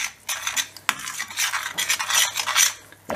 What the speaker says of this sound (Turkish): Ve karıştırıyoruz arkadaşlar